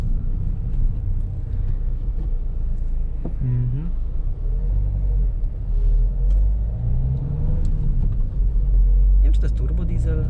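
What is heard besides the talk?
Toyota diesel car engine while driving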